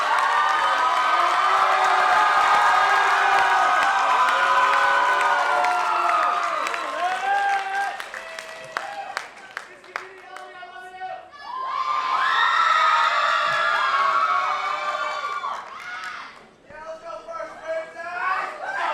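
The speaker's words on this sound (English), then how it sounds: "Everyone, can we give a big round of applause for our 2024 Royal Court?" Pageant audience at a student beauty contest main event cheering and applauding the royal court, loud sustained shrieks and whoops over clapping, easing briefly before a second big surge of screams, with voices throughout.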